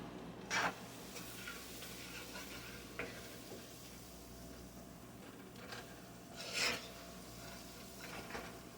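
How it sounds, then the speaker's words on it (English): Onions coated in flour stirred in a pot, quiet scraping strokes over a low steady sizzle, with two brighter scrapes standing out. "So you're coating the onions and you're stirring."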